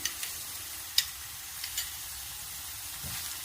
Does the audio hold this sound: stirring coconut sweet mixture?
yes